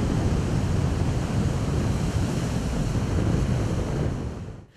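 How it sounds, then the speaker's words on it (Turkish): Stormy Black Sea surf and strong wind roar continuously, a loud dense rush of breaking waves and gusts buffeting the microphone, fading out abruptly at the end. "Karadeniz'in azgın dalgalarına ve fırtınaya karşı koyamayan"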